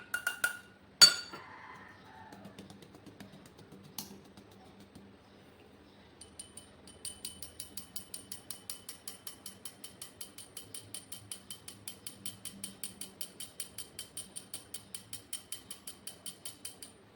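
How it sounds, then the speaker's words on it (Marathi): Wheat flour is shaken through a metal kitchen sieve. A few sharp clinks come first, then a long run of quiet, evenly spaced metallic taps and rattles, close by. "सुरुवातीला आपल्याला चाळणीने गव्हाचं पीठ चाळून घ्यायचं आहे"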